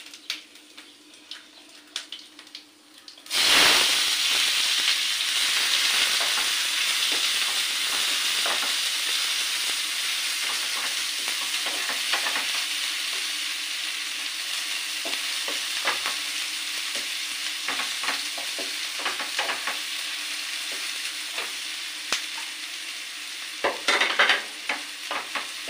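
Chopped onions and panch phoron spices hit hot oil with a sudden loud sizzle, then keep frying in a steady hiss while being stirred, with scraping clicks of the spoon near the end.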